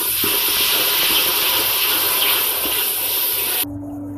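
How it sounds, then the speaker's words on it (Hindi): Water poured into a pan of frying onions, chillies and spices hisses loudly as a steady, broad sizzle for several seconds, then cuts off abruptly, leaving a low hum. "प्याज भूनते हुए थोड़ा सा हम पानी लगाएंगे ताकि हमारा जो मसाला है,"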